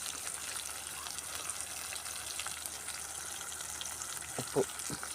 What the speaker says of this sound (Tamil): போட்டுட்டு நல்லா வதக்கி விட்டுருவோம்